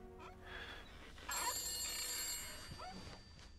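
In the video game The Beast Inside a telephone rings once, a bright electric bell burst lasting about a second over quiet room tone, moderately loud and alone.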